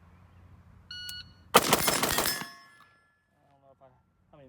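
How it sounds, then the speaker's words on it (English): Rapid string of six gunshots from a rifle fitted with a Tactical Edge trigger during a timed drill, a dense loud burst of cracks lasting about a second, preceded by a short timer beep and followed by quieter background. "That was 6 shots, made up for a miss."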